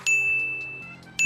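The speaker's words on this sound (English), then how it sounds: "You guys could probably hear my phone going off constantly." Two bright electronic dings, one at the start and one near the end, each ringing out clearly against a quiet background.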